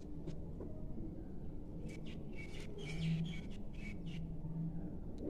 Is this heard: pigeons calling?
yes